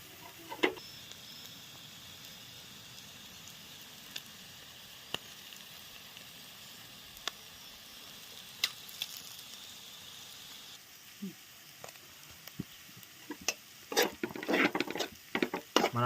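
Mutton boti (tripe) fries in a pan with a faint, steady sizzle and scattered soft ticks and pops. A burst of clattering stirring comes near the end.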